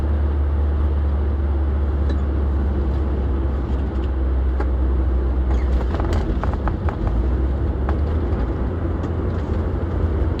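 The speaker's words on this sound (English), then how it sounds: "I like downshifting because you press the clutch in and then you bring, at least in this car, I have to bring the revs to like where it would be" A manual-transmission car engine drones steadily from inside the cabin, with a low, continuous rumble that swells slightly as the revs are blipped during a downshift, and a few faint clicks partway through.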